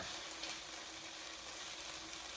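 Shrimp sizzle in a pan over a medium gas flame, a steady, dense hiss that keeps up without a break and stays fairly soft and close.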